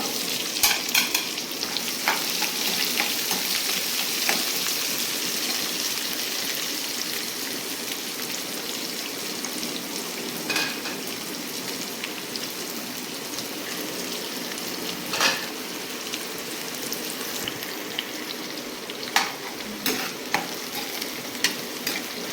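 Onions fry in a pan with a loud, continuous close sizzle like heavy rain, while occasional spoon scrapes and taps mark the stirring over a long stretch, with no voices.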